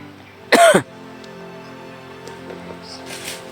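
A single harsh cough bursts out close by, short and loud, followed by quiet background hiss.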